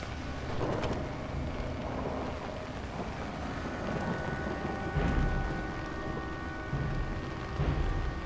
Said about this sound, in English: I don't know if I'm the only one that hates the rain. But I hate the rain.